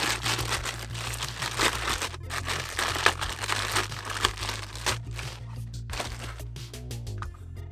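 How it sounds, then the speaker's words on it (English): Plastic packaging being pulled off an ELAMOR M15 electronic deadbolt door lock, close crinkling and rustling in irregular bursts, with sharper crackles and a low hum in the background. "So we move this out of the way, and in the plastic, let's just get this out."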